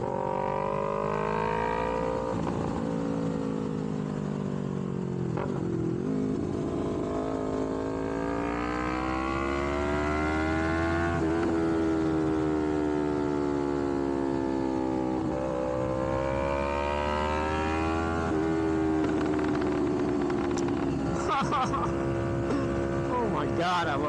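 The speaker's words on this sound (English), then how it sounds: "Oh my god, I love this exhaust." A Yamaha MT-03 motorcycle fitted with an aftermarket exhaust revs and pulls continuously while riding, its engine note rising and falling through gears, loud and sustained with wind noise throughout.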